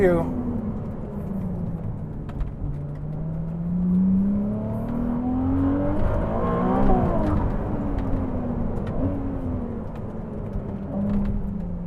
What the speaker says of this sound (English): The V6 is warbly, it's angry, it's still very Ferrari-esque